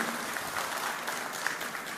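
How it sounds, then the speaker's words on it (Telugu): Audience applause at a Chief Minister's speech during a national highway inauguration and foundation-stone ceremony: steady, dense clapping from a large crowd, sustained at even loudness throughout. "Get చప్పట్లు కొట్టి ఒకసారి అభినందించండి"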